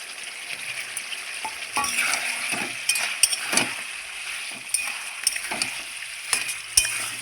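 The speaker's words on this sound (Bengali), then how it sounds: "ধুয়ে কেটে রাখা টমাটোগুলো এখন আমি দিয়ে দেবো" Washed, chopped tomatoes hit a hot pan and fry with a loud, steady sizzle, while a spoon scrapes and clinks against the pan as it stirs them, all without talk.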